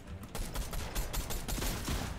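Rapid gunfire in the video game Fortnite, a dense continuous barrage of crackling shots with overlapping bursts, loud and sustained across the whole moment without any talk.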